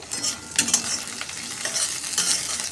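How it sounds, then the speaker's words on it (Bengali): Sliced onion and green chilli fry in mustard oil in a pan, giving a steady crackling sizzle broken by irregular scraping stirs, close and fairly quiet, with no voices. "সর্ষের তেল দিয়ে দিচ্ছি এখন পরিমাণ মতন ভালো মতন ভালো করে ভাজা ভাজা করে নিতে হবে পেঁয়াজটা কাঁচা লঙ্কাটা"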